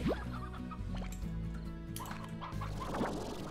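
Chickens cluck repeatedly in the video game Slime Rancher, short fowl calls scattered across a steady background of layered game music and ambience, with no talking.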